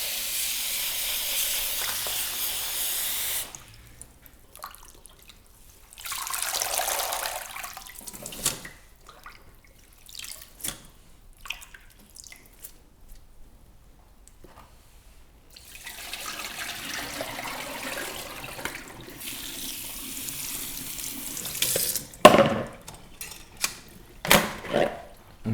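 Tap water runs in bursts over sprouts being rinsed at a kitchen sink, with gushing spells separated by quieter pauses and a few clatters near the end.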